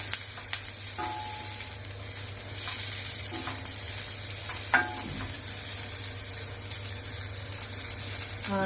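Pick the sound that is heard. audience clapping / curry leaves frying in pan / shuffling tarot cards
curry leaves frying in pan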